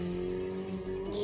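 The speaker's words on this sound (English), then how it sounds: "The sound of a powerful engine shook the underground air." A powerful car engine revs steadily in an underground space in the Steins;Gate 0 video game, a sustained droning roar with a rising whine near the end.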